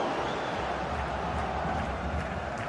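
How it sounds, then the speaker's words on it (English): Football match crowd in a stadium, a dense continuous roar of cheering and chanting spread across the clip, steady and fairly loud with no single voice standing out. "the crowd is certainly trying to motivate the players to get the equaliser"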